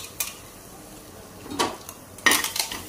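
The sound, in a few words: dry roasting ingredients on hot griddle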